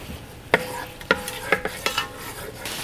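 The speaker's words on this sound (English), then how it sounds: "we're just gonna sweat those vegetables in there and give them a good stir" Vegetables sweating in melted butter in a pot for oyster stew, with a utensil stirring and knocking against the pot in about five sharp clinks over a low gentle sizzle, no voices.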